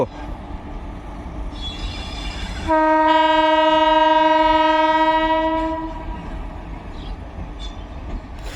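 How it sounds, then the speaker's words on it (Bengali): A train sounds a loud, sustained horn blast lasting about three seconds as it enters Azimganj Junction railway station in West Bengal, with steady rumbling rail noise before and after. "সেই সুন্দর একদম ট্রেন ঢুকছে আজিমগঞ্জ জংশন রেল স্টেশন"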